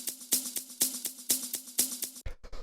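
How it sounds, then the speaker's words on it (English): A small live shaker plays a steady rhythmic pattern in a funky disco house mix, sidechained to a kick, with crisp bright pulses repeating evenly for about two seconds before a brief cut. "From there we have this little shaker which sounds like this."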